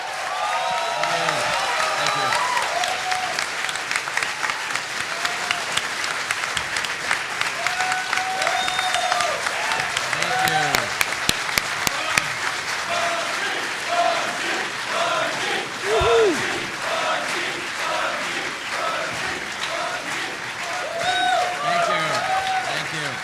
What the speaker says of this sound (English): give a round of applause to Bungie here